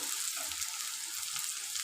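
Onions and tomatoes frying in oil with a pinch of salt for a spicy parshe fish curry, a steady dense sizzle close up, continuous and even with no talking.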